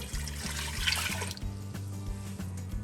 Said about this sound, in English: We're then gonna add 2 cups of water.